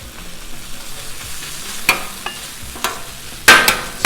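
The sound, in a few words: chorizo and veggies frying on a Blackstone griddle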